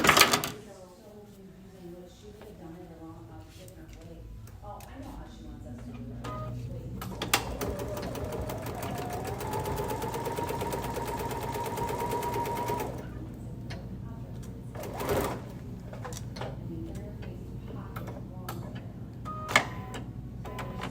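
A sewing machine stitches the seams of a fluted fabric bowl, a fast mechanical whirring run in the middle with lighter clicks and handling before and after, and brief talk at the start.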